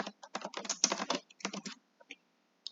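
Quick bursts of typing on a computer keyboard entering a search term, clustered clacking keystrokes in short runs with brief pauses and a couple of final isolated taps, close and clear.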